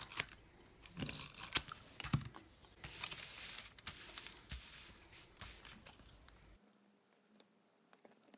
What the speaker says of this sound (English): I'm going to use my handy dandy glue dot staple runner.